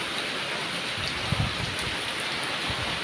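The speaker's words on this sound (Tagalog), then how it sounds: "Malakas guys yung ulan na." Heavy rain pours steadily in a continuous dense hiss, with scattered drops and low rumbling thumps mixed in, and no voices.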